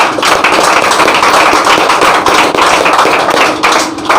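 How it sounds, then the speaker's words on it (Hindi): A crowd claps loudly and continuously, a dense, steady wash of applause from many hands close by. "इन लोगों के लिए जोरदार ताली होनी चाहिए।"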